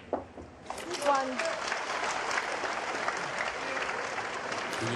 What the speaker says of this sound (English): And you can hear the big cheer from his supporters